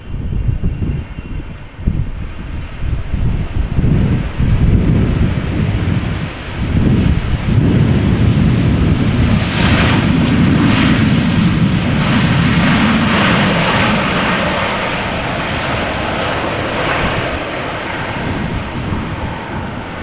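Delta flight 144 airliner at Amsterdam Schiphol Airport sends out a heavy jet engine roar, loud and close, building into a broad rumbling whoosh that then slowly fades, with some wind buffeting the microphone.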